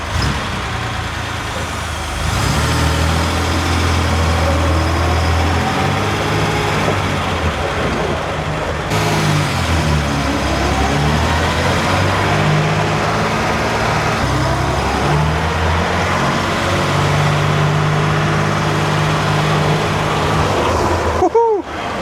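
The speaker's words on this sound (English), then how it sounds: "So 3rd gear down is forward, parking brake is off, and here we go." A Unimog 404 truck with a freshly rebuilt fuel pump rumbles loudly up close, engine note rising and falling through repeated gear changes as it drives off over about twenty seconds.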